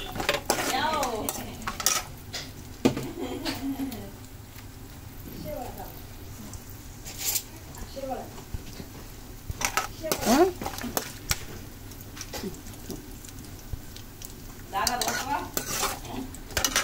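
Upma being stirred in a pan with cashews and hot nuts, scraping and clinking of a spoon against metal in irregular bursts, with a faint sizzle underneath and a voice speaking now and then.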